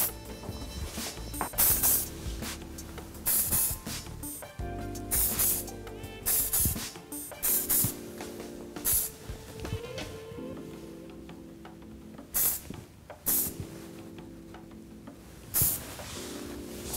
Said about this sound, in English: Okay, some more hairspray.